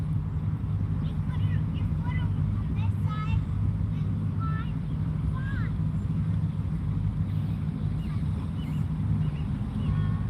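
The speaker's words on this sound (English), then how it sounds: "It's that boat, like a Harley for a boat." A loud motorboat with a rumbling, Harley-like engine runs on a river along a riverwalk, a steady low drone filling the whole stretch with wind buffeting the microphone, while faint birdsong sits above it.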